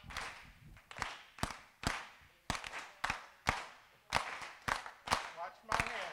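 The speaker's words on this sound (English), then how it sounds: "Okay, and you guys back here, you're gonna clap" A crowd claps hands in a steady, fast rhythm at a live performance event. The sharp, crisp claps repeat in quick succession, close and clear, with slight unevenness as groups join in.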